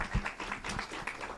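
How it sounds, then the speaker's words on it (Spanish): An audience applauds after an astrophysics colloquium talk, a short burst of scattered hand claps from a modest crowd, fairly faint and slightly uneven. "Le damos un aplauso a la maestra en Ciencias."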